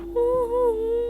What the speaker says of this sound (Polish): To był dźwięk Herobrina